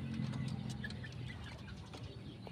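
Farm hens cluck quietly at a distance, with scattered short calls and occasional sharper squawks over a low background hum; no one speaks.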